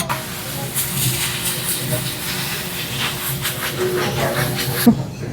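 A wet towel hisses loudly in a steady rush of steam as it is wiped across a hot grill at a Kobe beef steakhouse, continuing for about five seconds before cutting off abruptly.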